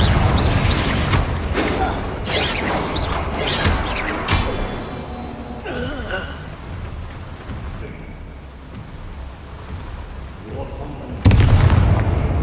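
A Confringo blast spell goes off in Hogwarts Legacy, a run of loud booming impacts and crashes in quick succession, then a quieter stretch of rumbling debris before another sharp burst near the end.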